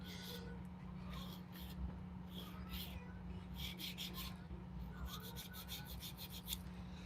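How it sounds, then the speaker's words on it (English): A nail file rasps against a fingernail in short, repeated scratchy strokes that come in quick bursts, faint and close over a low steady hum, with no talking. "remember, when you're filing, you're applying pressure to the nail."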